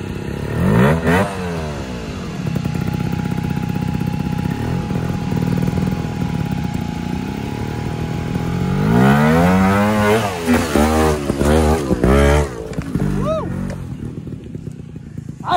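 A trials motorcycle works over loose, slick ground at a national trials championship test day, its engine revving and blipping in bursts, close and loud, while people talk over and around it.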